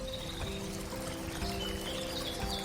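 A cartoon river flowing through a forest gives a steady, gentle rush of running water, continuous and moderately close, over soft sustained background tones.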